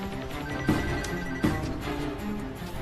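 A phone rings in two short bursts with a brief gap between them, clear and fairly close.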